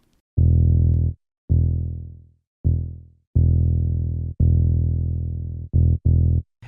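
Buzzy 808 bass notes from the Ana2 synth with a non-sine waveform, playing six or seven sustained low tones separated by short gaps, some decaying and some held, loud and dry with no voice.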